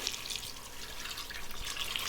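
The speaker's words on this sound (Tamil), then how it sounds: "இந்த குழம்புக்கு எவ்வளோ தண்ணி தேவையோ அந்த அளவுக்கு தண்ணி நீங்கள் இந்த டைமில் சேர்த்துக்கலாம்." Water added to tiffin sambar while cooking, a soft continuous trickling and splashing pour, fairly faint and close, with no talk.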